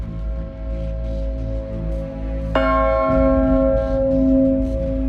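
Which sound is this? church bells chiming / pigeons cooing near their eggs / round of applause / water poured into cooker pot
church bells chiming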